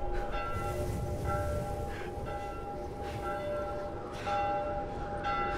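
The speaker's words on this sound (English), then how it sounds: "We need to follow the bells," Bells ring out in The Last of Us Remastered video game, steady sustained metallic tones repeating with soft strikes over a low ambient rumble, moderately loud and somewhat distant.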